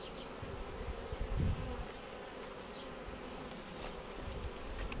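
A dense, continuous drone of honeybees swarms around a brood frame lifted from a hive, a steady buzzing mass with no talk.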